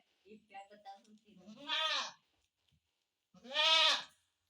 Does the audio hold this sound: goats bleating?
yes